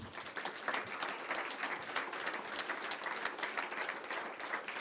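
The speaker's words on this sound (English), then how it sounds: "So please give them a round of applause." Audience applause for the event's organizing team at a hall-of-fame awards night, a steady dense wash of clapping that holds at even loudness throughout with no voices over it.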